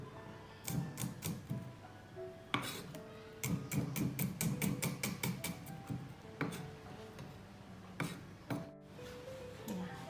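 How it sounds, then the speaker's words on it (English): Shallot being chopped and minced with a knife on a board for Pad Thai, a run of quick sharp taps in bursts, some clustered rapidly, near and moderately loud with faint kitchen clatter. "For the shallot, I will cut it a small size and mince."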